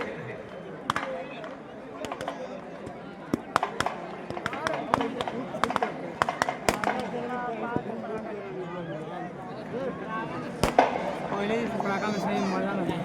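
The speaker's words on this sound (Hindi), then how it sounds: "ये आतिशबाजी आप मैदान में देख रहे हैं" Sharp firework bangs and crackles burst irregularly throughout at a Dussehra Ravan-burning event at Gandhi Maidan, Patna, mixed with a crowd's chatter and a voice talking over them.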